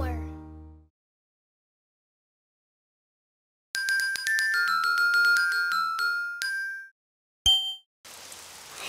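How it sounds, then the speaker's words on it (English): Rain falls outside in a children's cartoon scene, arriving as a brief burst of steady hiss near the end after a spoken line and a short run of bright chiming tones. "Oh, it's raining outside."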